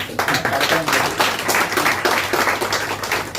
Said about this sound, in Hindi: आज उनको याद किया गया, तो जोरदार तालियां आज भी हमारे